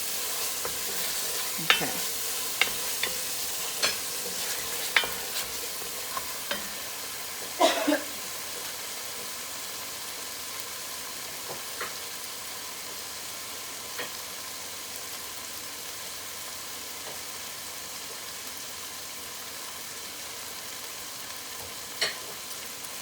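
Chana masala stirred and fried in a pan, a soft steady sizzle carrying scattered utensil taps and scrapes, busiest in the first third, with one brief spoken word.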